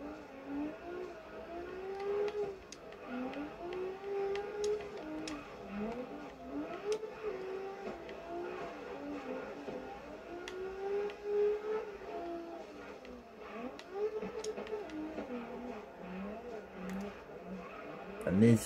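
Toyota Supra engine in CarX Drift Racing Online, revving up and down in a steady wavering drone as the car drifts, moderately loud throughout, with a voice speaking now and then over it.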